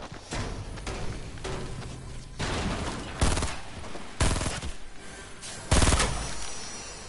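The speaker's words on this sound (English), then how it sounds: "I swear, how aren't these shots hitting?" Gunfire from the Fortnite Battle Royale video game comes in several loud, sharp bursts spaced a second or so apart, each ringing briefly over a steady background of game noise.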